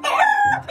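A rooster crows once from inside a chicken coop, a loud, close, drawn-out cock-a-doodle-doo that ends with a short trailing cluck.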